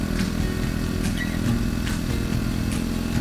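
A Triumph motorcycle engine runs steadily while riding through Saga, Japan, a constant mid-pitched rumble close to the rider with faint clatter and wind, no talking.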